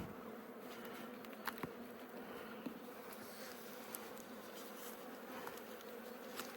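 Honeybees drone steadily around an open hive box during a March colony check, a dense continuous hum with occasional louder individual bees zipping close past, no talking.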